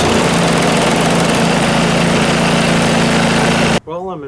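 A Simplicity 1222EE snowblower with a Briggs & Stratton engine runs loudly with its auger engaged, a steady close roar and drone that cuts off abruptly near the end, followed by a brief bit of talk.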